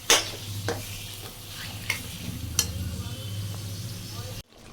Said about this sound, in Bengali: এবার তার মধ্যে সেই বানিয়ে রাখা পেস্ট ওটা দিয়ে এবার নাড়াচাড়া করতে হবে